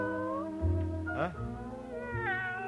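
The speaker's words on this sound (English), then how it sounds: "A real, live, scrawny, lovely alley cat." A scrawny alley cat gives several drawn-out, wavering meows at close range, with one louder cry in the middle and a rising call near the end.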